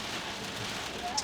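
Steady rain falls outside, a broad even hiss of drops spread across the whole moment with no clear speech over it.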